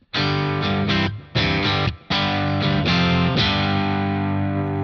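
An electric guitar played through a Nobels ODR-1 overdrive plugin into a clean amp setting, a series of distorted chords and notes with a final chord ringing out, no talking.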